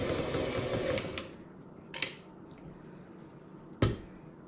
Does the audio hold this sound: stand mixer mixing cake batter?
yes